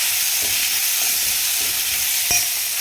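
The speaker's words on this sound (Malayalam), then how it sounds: "നമുക്ക് സവാള ഒന്ന് വഴറ്റാം." Onion sautéing in a pan with ginger garlic paste and turmeric for a potato bhaji gives off a loud, steady hiss with a few soft stirring knocks, close and without talk.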